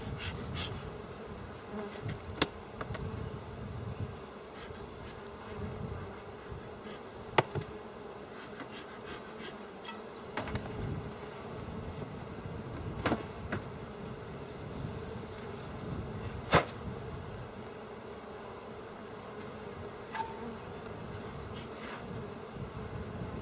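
Honeybees swarm and buzz around an open hive during an inspection, a constant dense drone close to the microphone with wind rumble underneath and occasional sharper passes as individual bees fly near.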